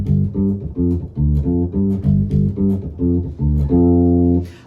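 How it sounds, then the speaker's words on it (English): Electric bass guitar played dry with no effects, a clean, loud riff of repeated plucked notes in a steady rhythm, ending on a sustained held note, with no talking. "this is the sound of my bass unaffected"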